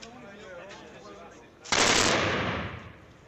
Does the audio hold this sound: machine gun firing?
yes